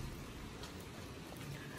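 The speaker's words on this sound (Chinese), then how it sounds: "下雨了，整个天气好凉爽哦" Rain falling at a resort in Tahiti, a faint, steady patter with no clear breaks, heard alone without voices.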